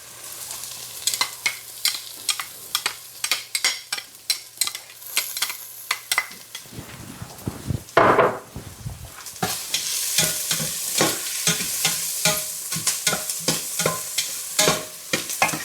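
Onions and garlic for vegan chili sizzle loudly in a pan while a utensil stirs and scrapes in quick, irregular strokes, the frying hiss rising midway as the garlic goes in.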